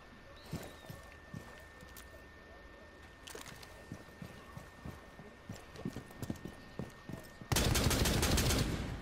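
A gunshot burst in the Rainbow Six Siege video game erupts loudly near the end, following a run of soft, regular footstep-like taps.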